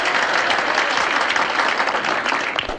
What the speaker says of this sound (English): Big round of applause for Martha